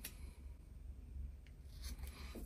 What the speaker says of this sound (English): I think I'm going to just trim off a little bit here with my scissors, just a little bit on each side